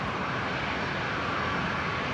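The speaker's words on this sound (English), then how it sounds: "Link 322 Delta, runway 19 right, clear for takeoff" Aircraft taking off from runway 19 right at Brisbane Airport, a continuous loud jet engine roar with dense rumble, steady and unbroken, no talk.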